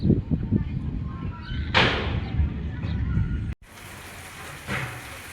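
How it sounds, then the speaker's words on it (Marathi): The year's first rain patters steadily on a surface, with occasional louder knocks and a brief door-like clatter, then continues more evenly after a short break. "हा आहे ह्या वर्षीचा पहिला पाऊस."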